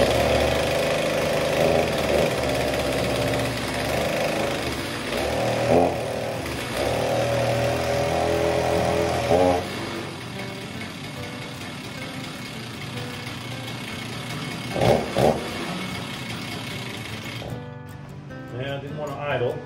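Old Stihl chainsaw engine running steadily at a rough idle, close and loud throughout, with a voice talking over it before the engine cuts off near the end.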